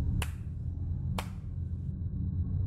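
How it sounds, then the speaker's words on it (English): Two sharp hand claps about a second apart ring out in a dark, quiet room over a steady low hum, with no talking. "What you clapping for?"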